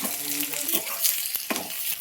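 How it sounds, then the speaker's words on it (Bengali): Dried red chillies and a generous amount of onion sizzle in hot oil, a loud, dense hiss broken by a few quick stirring scrapes and clicks. "তেল গরম হয়ে গেছে, দিয়ে দিচ্ছি শুকনো লঙ্কা, এর মধ্যে দিয়ে দিচ্ছি বেশ পরিমাণ মতন পেঁয়াজ,"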